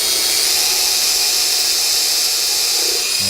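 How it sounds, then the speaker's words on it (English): Power drill boring into a wooden door during door installation, a steady high-pitched whine and hiss held continuously throughout, close and loud, with no talking. "we need to drill into your door"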